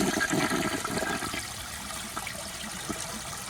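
A 1959 American Standard one-piece toilet flushes with a dish towel in the bowl, a loud rushing swirl at the start that eases into a steady, softer drain and trickle.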